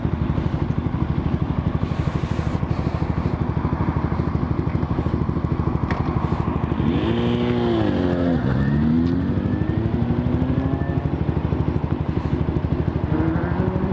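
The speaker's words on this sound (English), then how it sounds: "your bike don't sound right" A motorbike engine idles and revs steadily in a low throbbing pulse close by, with a brief rising and falling rev in the middle and a faint voice underneath.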